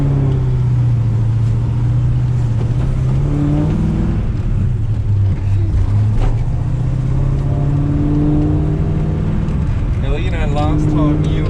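A Holden Torana LX hatch with a rebuilt 308 V8 and a new flat-tappet cam pulls away for a cruise. Its loud, steady engine note drones close by under talking, with the pitch rising and falling through gear changes.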